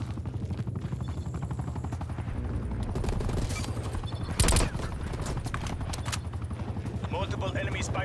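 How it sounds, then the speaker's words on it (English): An attack helicopter drones overhead in the shooter video game Black Ops Cold War, its steady rotor throb buried under continuous bursts of automatic gunfire, with a game voice speaking briefly. "Attack helicopter above."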